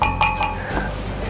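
Bullets strike an armor steel paddle target on a tactical AR target stand, giving two or three sharp metallic pings in quick succession, each ringing briefly before fading, heard close with no voices.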